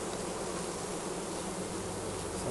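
A dense, steady hum of many honey bees buzzing together in a hive, continuous and close, with no breaks.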